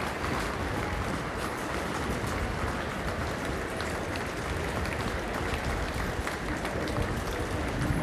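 A large racecourse crowd at Ascot cheers and applauds for the Duchess of Cornwall, a dense, continuous roar of clapping and voices with no clear pauses.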